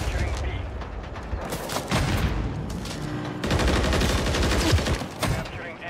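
Dense, rapid gunfire in Modern Warfare 3 ranked play, continuous bursts of automatic shots with mechanical clatter filling the whole stretch, loud and close.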